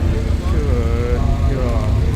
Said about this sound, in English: Pontiac over there sounds good